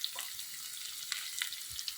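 Chopped onion and grated ginger with a pinch of asafoetida sautéing in a pan for kara kuzhi paniyaram chutney, a soft, steady sizzle with faint scraping stir clicks throughout.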